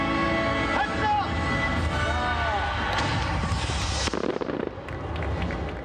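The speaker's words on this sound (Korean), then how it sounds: "서울 세계 불꽃 축제 시작을 알리는 화려한 불꽃이 피어올랐습니다." Fireworks launch and burst continuously over the Han River at the Seoul International Fireworks Festival, loud and dense, with booming shells, crackling, whistles and a cheering crowd throughout.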